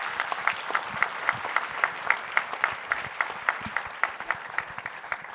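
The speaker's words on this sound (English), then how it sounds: "big round of applause for our panelists" An audience at a toy industry panel claps in a steady round of applause. The clapping sounds moderately near, even and continuous, with no talk over it.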